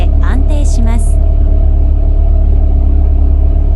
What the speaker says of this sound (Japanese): この症状は最も激しく異常を感じるエンジン始動時の状態です